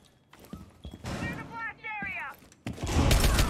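Pistol gunshots in Rainbow Six Siege, a few sharp cracks near the start followed by denser noisy bursts at the end, with a voice talking over the middle.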